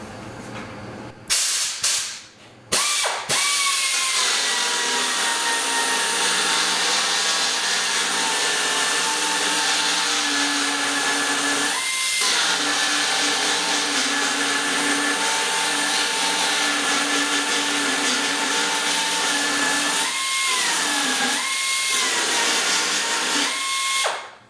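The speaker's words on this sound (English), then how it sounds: "we're going to use the little belt sander" A small belt sander grinds off spot welds on a car body panel, a loud continuous whining roar held for over twenty seconds with several brief dips in pitch as pressure changes, after a few short starts.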